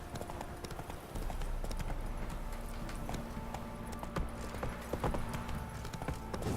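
Roach the horse galloping in Witcher 3: steady, rapid clip-clop of hooves, fairly loud and continuous, over faint game ambience.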